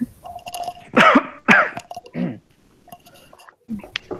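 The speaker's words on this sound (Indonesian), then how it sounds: "Wah, batuk." Several harsh coughs burst out in a quick cluster, followed by a softer throat-clearing sound, close to the microphone in an otherwise quiet room.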